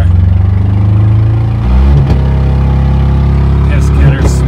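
An old Saturn car engine revs while warming up, a loud, steady low rumble that surges in a few bursts, with a voice speaking over it.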